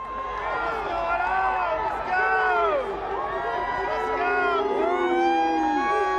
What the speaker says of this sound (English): You could hear the crowd saying Zeus.